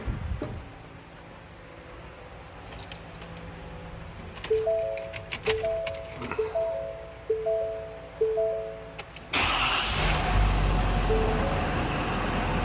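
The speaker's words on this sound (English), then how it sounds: "I'm going to go ahead and fire it up too so you can hear this thing run." A 2017 Ford F-550 Super Duty with a 6.7 liter V8 turbo diesel gives a series of electronic chimes and ticks, then suddenly cranks and catches. It settles into a loud, close, broadband diesel idle that runs to the end.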